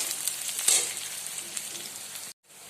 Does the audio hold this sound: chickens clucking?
no